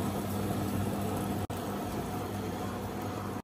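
Wet grinder machine grinding soaked lentils into batter for bori, a steady close mechanical whir and churning hum that runs unbroken, briefly cut off twice.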